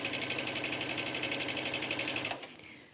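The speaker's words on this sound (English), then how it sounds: "just go ahead and stitch all the way to the other end" A sewing machine stitches a trench coat yoke seam at a 3.0 stitch length, a fast, even mechanical chatter running steadily up close for a couple of seconds before stopping abruptly.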